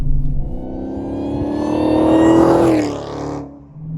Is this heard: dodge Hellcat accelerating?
yes